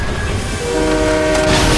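Train from the video game Fortnite, a steady loud rumbling rail sound with sustained horn-like tones running throughout, growing slightly brighter toward the end, with no talk.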